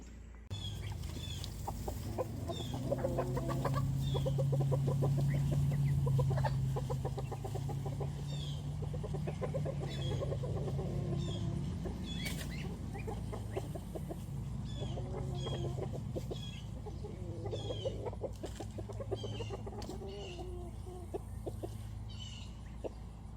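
Chickens cluck and call steadily on a small homestead farm, a continuous flock chatter with occasional sharper squawks and a low rumble underneath, no talking.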